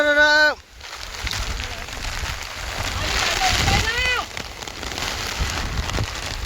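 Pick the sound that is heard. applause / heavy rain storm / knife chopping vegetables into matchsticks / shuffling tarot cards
heavy rain storm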